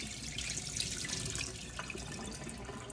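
Thawed water from defrosting spinach is poured out into a kitchen sink, making a soft, continuous splashing trickle at low volume with no talking.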